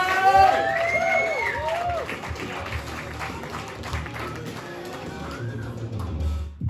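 A comedy club crowd breaks into applause with cheers and whoops, a lively mix of clapping and voices that holds steady before fading slightly.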